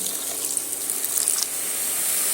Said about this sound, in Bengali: এবার আমি এখানে অল্প একটু পানি অ্যাড করে দিলাম